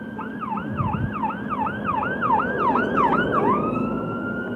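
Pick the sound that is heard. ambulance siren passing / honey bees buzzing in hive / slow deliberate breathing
ambulance siren passing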